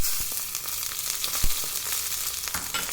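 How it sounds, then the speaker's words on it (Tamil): Dried chillies frying in a little oil for a tempering, a steady close sizzle with a few sharp pops and crackles throughout. "கடுகு போடுறதுக்கு முன்னாடி மிளகாயை போட்டு"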